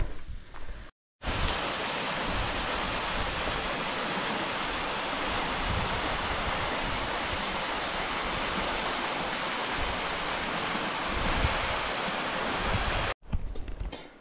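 A continuous roar of a waterfall in a canyon near Tolmin, Slovenia, steady and full, with no voices; it cuts off briefly near the start and at the end.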